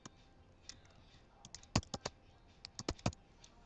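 Quiet keys tapped on a computer keyboard while typing a link, scattered single clicks at first, then quicker irregular bursts of close, crisp keystrokes.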